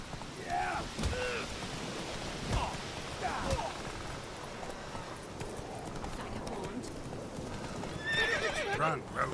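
A horse from The Witcher 3: Wild Hunt on Xbox One gallops with rhythmic clip-clopping hooves and lets out a couple of whinnies, all fairly faint and mixed with game sounds.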